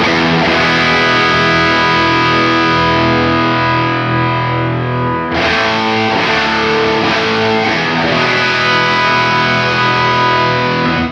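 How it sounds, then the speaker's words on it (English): Electric guitar played through an Origin Effects Revival Drive Hot Rod overdrive with Valhalla room reverb, loud distorted sustained chords ringing in a wide stereo wash, a chord change midway, no talking. "So here I'm bringing in a room reverb from Valhalla, and now our mono guitar sound is going to be processed in stereo."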